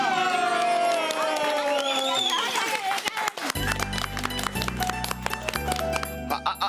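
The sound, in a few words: audience applause for the weekly winner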